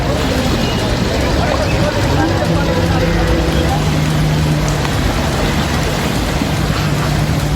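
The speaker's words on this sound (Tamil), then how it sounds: "அம்பாலாவிலும் கனமழை கொட்டி தீர்த்தது." Heavy rain pours in Ambala, a dense continuous hiss of rainfall over a low rumble, loud and steady throughout with faint traffic or crowd noise underneath.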